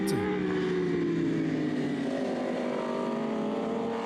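A BMW 1000 superbike engine in the GP Bikes racing game screams at high revs, holding a loud, sustained whine that slides gradually lower as it eases off, with no talk over it.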